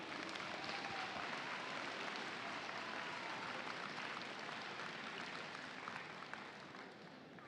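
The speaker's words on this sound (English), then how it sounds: "Let's get a round of applause for everyone who's here today." Audience applause at a FIRST Tech Challenge state championship awards ceremony, a steady, fairly faint wash of clapping from a large crowd that holds evenly and tapers slightly at the end.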